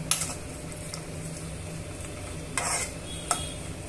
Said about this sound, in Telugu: డ్రై ఫ్రూట్స్ అన్ని కూడా యాడ్ చేసుకున్న తర్వాత ఈ ఘీలో మనము ఇలా వేయించేసుకోవాలి